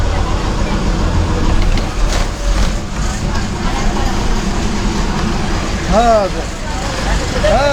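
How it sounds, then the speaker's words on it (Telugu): A village bus on the Tenali to Kothurulanka route sits at the Sukkalanka stop, its engine idling in a low, steady rumble under continuous nearby talk, with a few brief chirping tones near the end. "పుత్తూరు లంక బస్సు సుక్కలంక చేరుకుంది"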